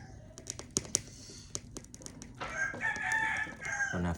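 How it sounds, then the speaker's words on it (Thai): Rooster crowing with chickens in a rural village yard, a rooster's call rising in the latter half over scattered clucks and sharp clicking noises. "ตอนน่ะฟังเสียงไก่ขั้นพุ่นน่ะ"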